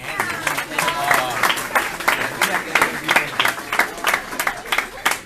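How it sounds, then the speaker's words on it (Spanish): A church congregation breaks into applause, with rapid, uneven clapping rising and falling close by, and some voices over it. "Den un aplauso a Santiago."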